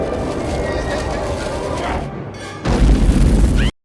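A TNT bomb goes off in the Richie Rich movie: a deep, heavy boom bursts in after a stretch of busy, voice-like movie sound, then cuts off abruptly.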